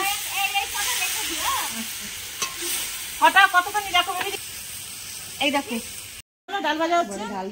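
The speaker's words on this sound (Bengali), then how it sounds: "এই এখন এখানে ডাল ভাজা হচ্ছে" Lentils frying in a large pan at a neighbourhood picnic, a continuous hiss and sizzle with a voice talking over it in several bursts.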